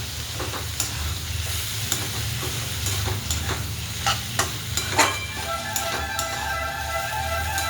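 Cluster bean curry with peanut powder being stirred in a kadhai, with repeated spoon scrapes and taps over a continuous close oil sizzle.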